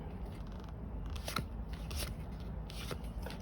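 Tarot cards are flicked and slid through a deck in search of the Sun card, giving quiet papery riffles and snaps in several short bursts, close and faint, with no talking.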